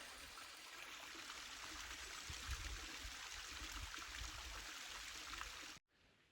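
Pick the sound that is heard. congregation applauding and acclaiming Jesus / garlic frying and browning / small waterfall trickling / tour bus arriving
small waterfall trickling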